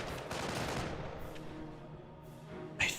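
Battle in the video game Company of Heroes: dense gunfire and explosions roll on as a continuous rumbling barrage with scattered bursts and a sharp crack near the end, with no talk.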